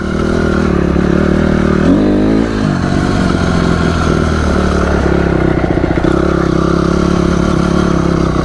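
A motorcycle engine revs hard and accelerates during wheelie practice, loud and close, with a steady droning roar and rising pitch sweeps and some mechanical clatter throughout.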